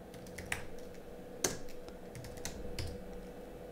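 Keys clack on a computer keyboard while a GPG signature-verification command is typed at a terminal, sparse irregular taps at close range, quiet with no voices.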